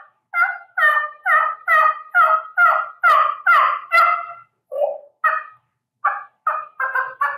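A person imitates a turkey gobble with the voice: a rapid run of about a dozen loud, close, yelping notes in quick succession, a short gap, then several more, with no other talk.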